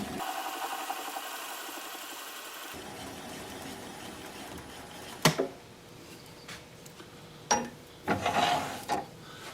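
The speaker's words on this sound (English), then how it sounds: "I'm going to apply the bevel of the gouge against the bottom of the bowl" A gouge bevel rides and cuts against the bottom of a spinning ash bowl on a wood lathe, a steady rasping scrape over the machine's hum, broken by a few sharp knocks and scraping bursts near the end.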